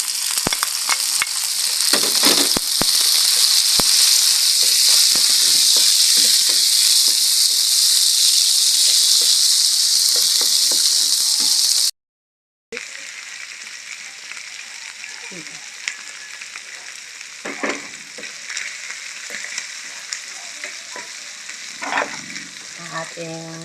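Shrimp frying in a pan with garlic and tomato, a steady loud sizzle with sharp crackles and pops, stirred now and then, cutting out briefly midway and resuming slightly softer.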